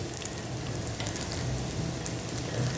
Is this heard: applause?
no